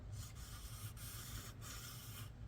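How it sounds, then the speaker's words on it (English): Wet sanding a scuffed corner of a Lexus RX 450 bumper by hand with 600 grit sandpaper, a steady close rasping rub that continues without a break, with faint dips in intensity as the stroke changes. "I'm going to just wet sand it down just a little bit, some 600, just that corner"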